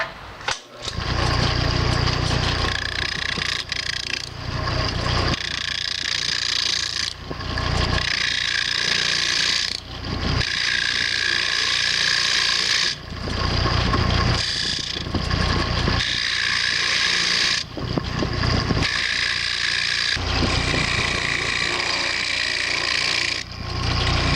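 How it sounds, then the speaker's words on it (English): Woodturning lathe with a 5/8 inch bowl gouge cutting wood off the bottom of a turned box, loud close rasping cuts in repeated passes, each several seconds long, separated by brief pauses over the motor hum. "I'm going to go in with my 5/8 inch bowl gouge, and I'm just going to turn this nasty little tendon off the bottom here"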